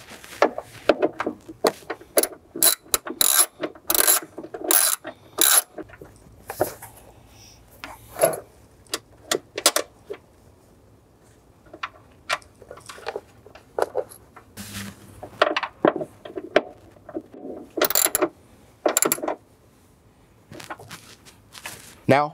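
A ratchet tightening a 10 mm ground nut on the factory grounding point in the kick panel of a 2011–2018 Jeep Wrangler JK, with short close rasping clicks in irregular bursts and pauses, no talking.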